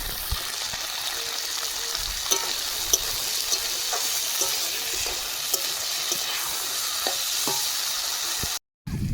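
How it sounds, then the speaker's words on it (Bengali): Fresh broad beans frying in hot oil in a wok, a steady dense sizzle running throughout with scattered crackles and a brief dropout near the end. "বিন কড়াইগুলো ভেজে নেব।"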